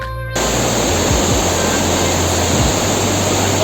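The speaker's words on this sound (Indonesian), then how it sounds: "di bawah itu ada sungai Cisimewut selebar 30 meter dan arusnya sangat deras guys." A fast-flowing river about 30 metres wide rushes beneath a living tree-root bridge in Baduy country, a loud, steady broadband roar of water that runs without a break after a brief quieter start.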